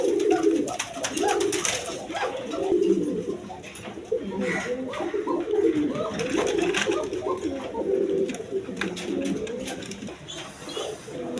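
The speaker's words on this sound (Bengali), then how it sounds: "দর্শকবিন্দু এখানে এক পেয়ার রাজগোল্লা কবুতর আছে" A pair of Rajgolla pigeons, one male and one female, coo continuously in overlapping low rolling calls, close and fairly loud, with scattered clicks and rustling throughout.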